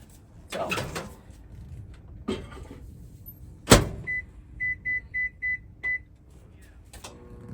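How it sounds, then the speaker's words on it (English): A microwave door thuds and clicks, then five short electronic beeps ring out in an even rhythm against a low hum. "I'm going to put it in the microwave"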